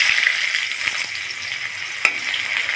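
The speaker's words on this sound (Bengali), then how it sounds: "এখন দিয়ে দেবো পেঁয়াজ কুচি" Chopped onions hitting hot oil with cumin seeds, a dense close sizzle with a couple of light spatula taps as they are stirred.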